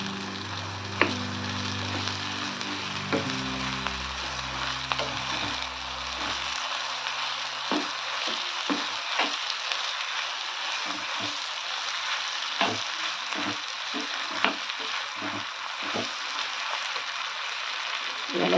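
Potato leaves tossed into a pan of frying Maharashtrian village-style vegetables, a continuous close sizzle with a low rumble early on, then repeated scraping stirs of a spoon against the pan at an uneven pace.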